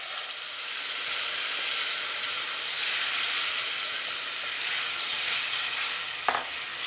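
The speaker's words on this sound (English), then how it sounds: "As soon as the garlic is translucent, I'm gonna go ahead and add the grated tomatoes." Grated tomatoes hit garlic frying in a pan, giving a steady, close sizzle and hiss that runs throughout with a faint stirring scrape and a short clink near the end.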